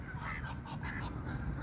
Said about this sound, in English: Mr. Broken Wing Duck is upset